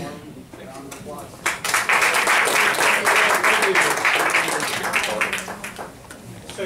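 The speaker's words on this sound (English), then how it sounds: "So let's give them a warm round of applause." Applause from the audience at a real estate investors' meeting, building quickly into a broad steady wash of clapping that holds for several seconds and then fades, with faint talk around it.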